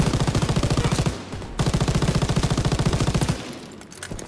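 Rapid machine-gun bursts in the video game Call of Duty: WWII during the D-Day landing, two long sustained strings of loud close automatic fire separated by a brief pause, no speech.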